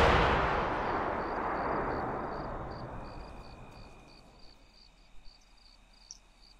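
A crashed helicopter explodes in a video game, a big broad blast that decays slowly into a long fading rumble, with a faint chirping in the background and a few small thuds late on.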